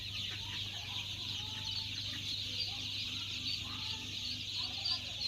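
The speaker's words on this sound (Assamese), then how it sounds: "পোৱালিবিলাক চাওক কিমান ধুনীয়া ঘূৰা ঘূৰি কৰি আছে।" Chickens and duck hatchlings at an incubator-fed duck and poultry farm make a steady, dense chorus of overlapping clucks and high chirps, with a constant low hum running beneath them.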